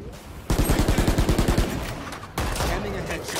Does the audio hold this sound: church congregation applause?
no